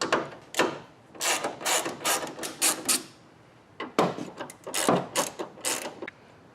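A ratchet wrench clicks in quick bursts while backing out 10 mm tail light bolts on a 2023 Toyota Tacoma, two runs of rapid close ratcheting split by a short pause, with no talk.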